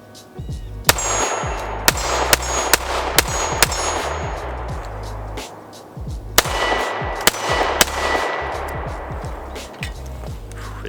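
Gunshots from a Bul Armory SAS2 Viper compensated pistol, sharp loud reports fired in quick strings with short pauses between, each crack ringing with metallic clangs and outdoor echo, no talk over them.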